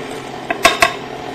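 Cake batter for lemon bread is beaten in a bowl after a third of the flour goes in, giving a few short, close clinks and scrapes of a utensil against the bowl within a quiet stretch.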